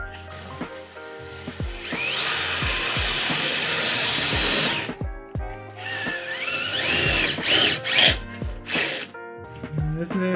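A Bosch 18-volt cordless drill with a bit chucked whirs in a sustained, rising whine for a few seconds during work on a BMW E34 M50 supercharger, followed by shorter bursts, clicks and clanks nearby.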